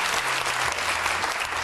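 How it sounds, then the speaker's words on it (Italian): A studio audience on an Italian football comedy TV show breaks into continuous applause for a contestant, a thick, even wash of clapping with a faint low hum beneath. "un applauso per Abbruscato su questa scena"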